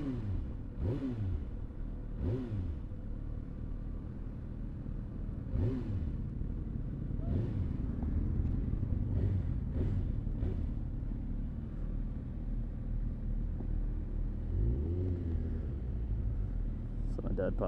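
Motorcycles gathering for a group charity toy run at Ferntree Gully make a steady, close engine rumble, with several bikes passing and revving over the continuous drone.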